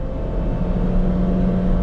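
A 2024 Honda Brio Satya 1.2 E with CVT accelerating on the road to overtake a truck, its steady engine drone and road noise holding loud and even throughout, with no talk.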